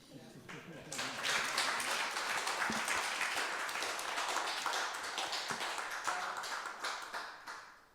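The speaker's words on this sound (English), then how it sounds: "Shall we give them a round of applause?" Round-table audience applause for a science panel: clapping swells in after a quiet start, stays full and even, then thins out and tapers toward the end.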